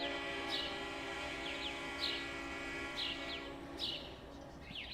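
A loud bird repeating a sharp call roughly once a second, four or five times, over a steady low rumble of a train in the Trainz railway simulator.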